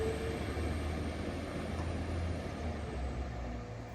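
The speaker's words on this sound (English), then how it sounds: "Right, this is our next train to Sheffield now." A passenger train bound for Sheffield gives a steady low rumble of wheels and engine from the inside, with no distinct events and no talk.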